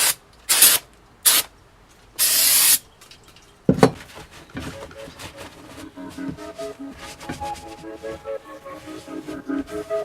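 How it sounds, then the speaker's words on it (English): Aerosol brake parts cleaner sprayed onto side seat mounts for a Mazda RX-7 drift car, heard as three sharp, close hissing bursts, the last one longer, followed by light clinks and rattling of parts. "We're going to give these a quick wipe down with some brake parts cleaner"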